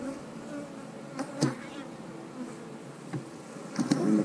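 Honeybees hum as a low, steady buzz around an open hive frame holding brood, pollen and nectar. A few louder buzzes come as single bees pass close, and no one talks.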